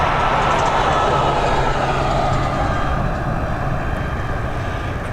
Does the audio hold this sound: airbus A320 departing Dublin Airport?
yes